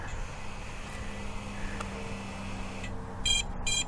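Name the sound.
drone fail-safe test beeps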